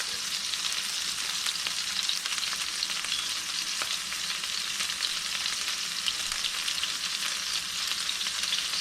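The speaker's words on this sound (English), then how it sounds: "the oil from the pesto is gonna drain off to the side and help flavor the underside of the steaks." Yellowfin tuna steaks topped with pesto fry in an oiled pan, giving a steady, close hiss and crackle that holds even throughout with no voices.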